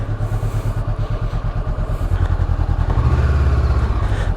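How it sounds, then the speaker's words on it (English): A Honda CB500X motorcycle engine idling close by with a rhythmic pulsing thrum that steadies and grows slightly louder partway through, heard alone without speech. "we'll leave her on so you can hear the magnificent engine sound"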